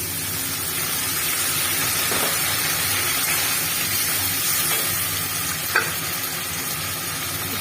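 Soy, tomato and chili sauces poured into a hot frying pan for chili fish, giving a steady hissing sizzle with occasional faint stirring clicks.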